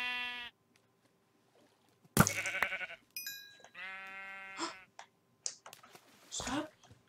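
Sheep in the Minecraft video game bleat in several short, nasal calls spread across the clip. They are mixed with game sounds and a voice speaking now and then.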